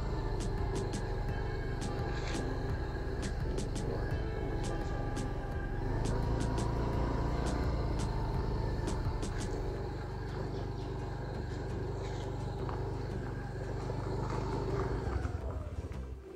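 A TVS Zest 110 scooter being ridden makes a steady, droning engine hum mixed with rushing wind noise that stays loud and constant throughout, easing off slightly at the end.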